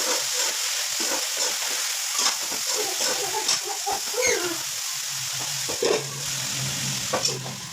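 A mixture being stirred in a cooking pan in a home kitchen, a steady scraping and sizzle with intermittent utensil clinks against the pan, close and fairly loud, with no voices.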